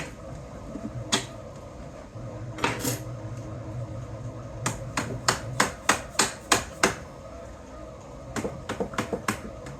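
Mount sliding onto Picatinny rails, giving a series of sharp metallic clicks and taps, some in a quick regular run, close up over a quiet background.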